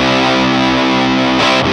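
An electric guitar played through a Silverfish fuzz pedal with the mids turned up. One thick, heavily distorted chord rings loud and sustained, then breaks off near the end.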